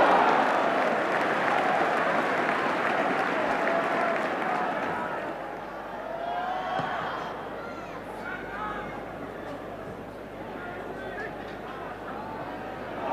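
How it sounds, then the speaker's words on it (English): Football crowd at a 1984 Ipswich match roaring in support of the home side, a broad wash of cheering and clapping that swells loudly, then eases and stays as a steadier distant hubbub. "Crowd getting behind Ipswich, knowing how much a goal would do for their confidence."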